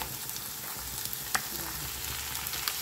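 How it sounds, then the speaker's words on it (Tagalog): Chopped onion and garlic sizzle in a pan, a soft continuous crackle with a few sharper pops, heard close and alone. "Medyo luto na yung ating sibuyas at bawang."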